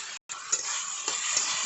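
Tomato fries in hot oil in a pan for an Assamese fish dish, a close bright sizzle after a brief drop-out, with a few stirring clinks and no talking.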